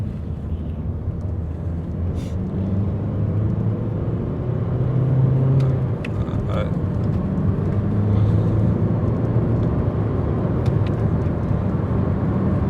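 A 2008 Skoda Octavia II 1.9 TDi with a turbocharger overboost fault drives in second gear, a steady low engine drone and road rumble heard from inside the car, rising slightly midway; no speech.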